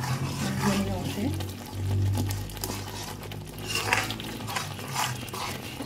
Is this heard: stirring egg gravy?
yes